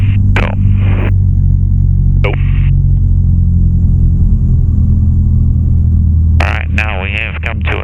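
A light training aircraft's engine idles at 1000 RPM after coming to a stop, giving a steady loud low rumble and hum throughout, with radio chatter and a voice speaking over it.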